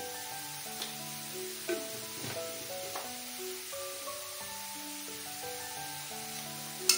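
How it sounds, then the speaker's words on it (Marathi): Cabbage paratha filling sautéing in a pan with salt and spices, a soft steady sizzle beneath quiet background music with occasional light stirring knocks. "थोडंसं परतून घेऊया।"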